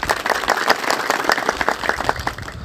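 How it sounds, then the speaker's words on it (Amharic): A crowd applauds steadily, a dense, continuous patter of clapping from many hands, for 19 rural children being given cash prizes at a gathering in Dessie, Ethiopia. "አጨብጭቡላቸው ለልጆቹ።"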